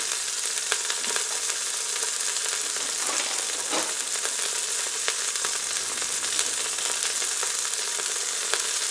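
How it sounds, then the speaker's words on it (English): Steady, close sizzling of hot oil searing beef, with sharp pops and crackles scattered throughout, continuous and fairly loud, no voices. "you can hear the oil is popping"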